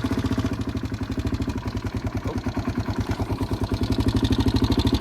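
A Kawasaki KFX 400 ATV, bored out to about 436, runs close by with a rapid, even thumping engine pulse. The beat stays steady and loud, swelling slightly toward the end, with no talking.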